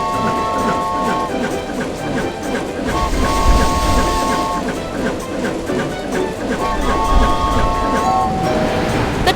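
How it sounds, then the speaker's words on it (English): A cartoon train in the BabyBus Little Panda Train kids' game rolls along with rhythmic clacking and tonal chimes over game music, while a voice narrates over it. "The train is approaching grassland pasture."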